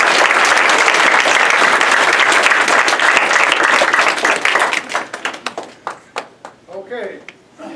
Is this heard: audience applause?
yes